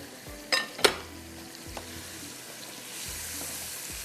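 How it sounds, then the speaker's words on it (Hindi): Boiled potatoes drop into a hot pan of spices with a couple of sharp clatters, then a soft sizzle and frying hiss builds steadily. "ये डाल देते हैं इसमें आलू जो उबले हुए हैं।"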